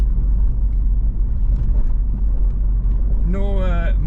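Vauxhall Cavalier CD with a C20XE engine on the road, a steady low engine and road rumble heard from inside the car, with a brief tonal whine near the end.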